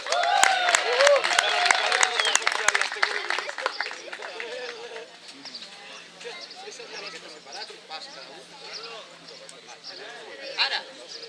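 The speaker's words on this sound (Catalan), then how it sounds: "I un aplaudiment pel Biel." Audience applauding for a child named Biel at an outdoor clown theatre show, loud and dense at first with voices and cheers mixed in, then fading to scattered claps and chatter.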